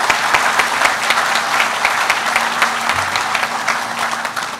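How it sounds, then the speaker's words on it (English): Hearty applause rises from a large crowd at a tribal headquarters grand opening, a thick, continuous clatter of many hands clapping at close range that holds steady for several seconds. "Let's give them a huge round of applause."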